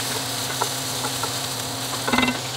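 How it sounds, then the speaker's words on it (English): Food stirred in a skillet with oil and sausage juices while making Maxwell Street Polish, giving a steady close sizzle with a few soft scraping taps and a brief louder scrape near the end. "chuck those in the skillet. Gonna get those good and mixed with the oil and the juices from the sausages"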